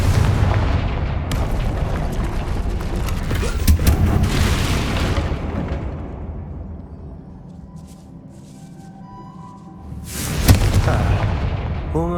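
A Confringo spell explosion in the Hogwarts Legacy video game booms loudly, with several heavy blasts and rumbling debris that fade into quieter crackles before a second sharp burst near the end.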